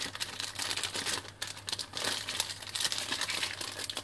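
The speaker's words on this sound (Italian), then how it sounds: "Lo rimetto nel suo sacchetto." A plastic bag crinkles and rustles continuously up close as it is handled and folded, with no talking.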